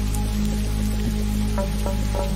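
Steady rain patters over a muddy rural village path during the monsoon at night, a dense, even hiss with a low hum underneath and occasional faint drips.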